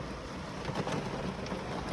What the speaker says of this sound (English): And it started raining on me.